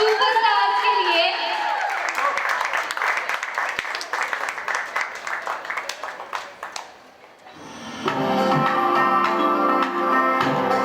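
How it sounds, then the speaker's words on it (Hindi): Wedding engagement guests clap for the bride and groom, a dense burst of applause with chatter over it, fading out and then giving way to loud music. "तो जोरदार तालियां हो जाए हमारे आज के शाम के सुपरस्टार्स के लिए"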